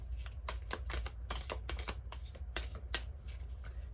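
Tarot cards being shuffled by hand, a steady run of crisp riffling flicks and soft slaps repeating close and alone without talk.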